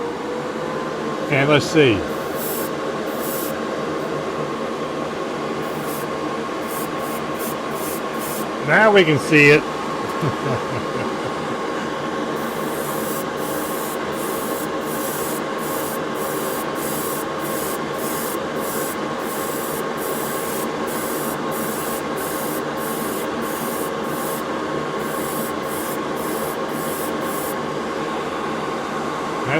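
A Gaahleri GHAD-39 Advanced Series airbrush sprays gray primer onto a white spoon, its compressor holding a steady hum throughout with short hissing bursts from the brush near the start and middle, while someone talks briefly.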